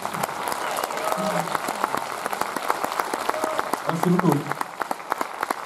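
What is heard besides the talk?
audience applause at film premiere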